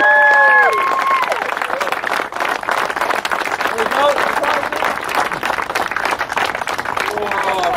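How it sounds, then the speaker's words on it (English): Sustained crowd applause and cheering at a drift competition event, loud and continuous for several seconds with brief voice calls and babble mixed in. "give the biggest round of applause for second place of Drift Now 2018, Andy Frog"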